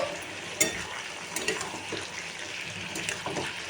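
Potatoes are stirred in a cooking pan, a close, soft scraping and sizzling shuffle with a few sharper clinks of the utensil against the pan, and no talk over it.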